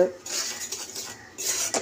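A utensil scrapes and clatters against a pan as spices are stirred and fried, a brief run of soft metallic scraping.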